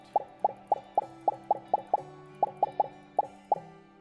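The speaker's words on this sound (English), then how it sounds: "So when I click on it, I get that really satisfying pop sound." Short, bright pops from a Scratch clicker game repeat about a dozen times in a quick, slightly uneven rhythm, each one a crisp click over a faint background tone.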